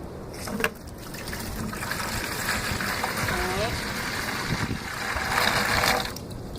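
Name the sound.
water poured into a bucket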